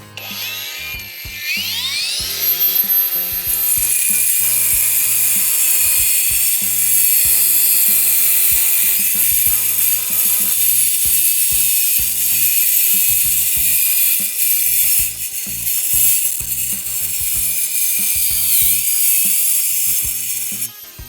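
Dnipro-M Grand cutting disc on a power tool slicing out a piece of material, a loud sustained high-pitched grinding whine with rapid ratcheting rattle throughout, continuous and close with brief dips as the cut proceeds.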